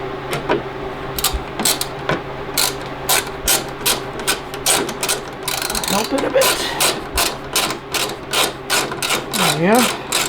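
Bolts on a rear bumper of a 2020 Polaris PRO RMK snowmobile are tightened with a ratchet, giving rapid rhythmic clicking bursts up close, with speech over the work.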